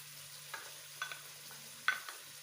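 Chicken masala with tomato and ginger-garlic paste fries quietly in a pan, with faint sizzling and a few soft scrapes and clinks of stirring over a low steady hum.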